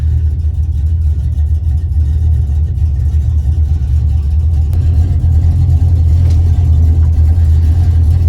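A cold 1978 El Camino with a 357 small-block V8 idles steadily as it warms up, a loud, deep, even rumble that holds constant throughout with no talk.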